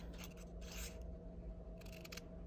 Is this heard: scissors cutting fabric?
yes